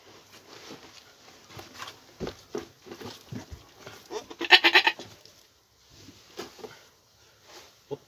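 A two-year-old billy goat bleats several times, with a loud burst of cries in the middle, among rustling and handling noises at close range on a farm, with no talking.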